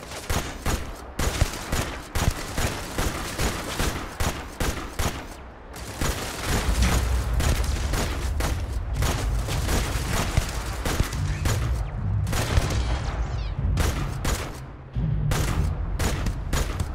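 Turret gunfire in the video game Starfield comes as loud, dense bursts of rapid automatic shots with heavy booming impacts, nearly continuous across the clip with only brief gaps.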